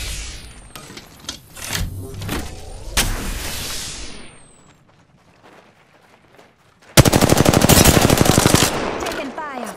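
Video game gunfire while the player's character is taking fire: sharp separate shots and short bursts early on, a quiet lull, then a loud sustained machine-gun stream of rapid evenly spaced rounds near the end.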